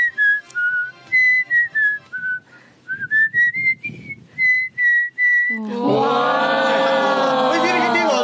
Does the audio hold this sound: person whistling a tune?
yes